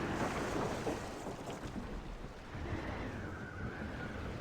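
Wind and sea around a sailing ship in Assassin's Creed Rogue, a steady broad rush of gusting wind and surging water, loud and continuous, with a faint whistling tone rising midway and no voices.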